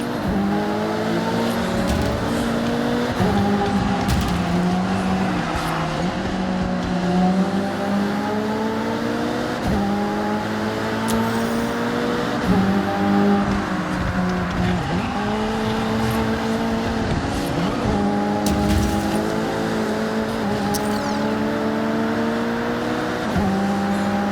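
Race cars roar through a Forza Horizon video game race, engines revving and shifting through gears in a constant loud drone of several cars, with tire noise mixed in and no talking.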